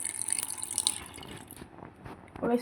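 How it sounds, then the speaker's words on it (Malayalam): Water trickles and splashes as it is poured into a batter mix for palappam, with light drips and liquid sounds close by, easing off near the end. "വെള്ളം ഒഴിച്ചു കൊടുക്കണം അതിലോട്ട്"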